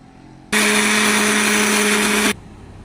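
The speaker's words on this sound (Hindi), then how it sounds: "हमने केले, कुकिंग ऑयल और चीनी को 1 मिनट के लिए बीट कर लिया" An electric beater whirs loudly for about two seconds, mixing bananas, sugar and cooking oil, starting and stopping abruptly against a quiet kitchen background with no speech.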